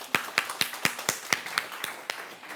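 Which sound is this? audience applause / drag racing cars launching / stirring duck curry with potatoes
audience applause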